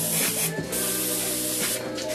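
An airbrush sprays paint in a steady, loud continuous hiss for about two seconds, briefly dipping as the trigger is pulled back and released, with no talking.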